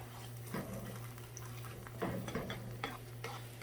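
Eggs seasoned with salt and black pepper are scrambled in a pan, with faint scraping and stirring strokes over a low steady hum, quiet and close.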